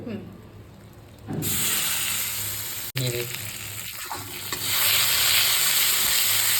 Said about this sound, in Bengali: এটা কিন্তু আদা রসুনটা অনেকটা হালকা ফ্রাই করা হয়ে গেছে